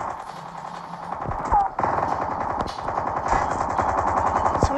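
Rapid automatic gunfire in the video game Call of Duty, dense bursts of shots crackling in quick succession with a few louder cracks, continuous throughout the short stretch.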